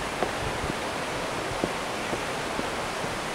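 Distant waterfall at Kawazu Seven Falls in Japan, a steady broadband rush rising from below, with a few soft knocks or footsteps on top and no talk.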